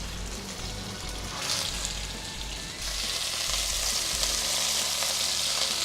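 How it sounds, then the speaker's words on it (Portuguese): Meat sears in a hot iron pot with a loud, steady sizzle that grows a bit stronger partway through, with no voices. "Vou selar então a carne."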